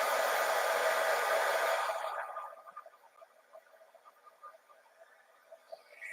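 A heat gun blows a loud, steady broadband rush for about two seconds before shutting off, leaving faint scattered ticks and small clicks in a quiet room.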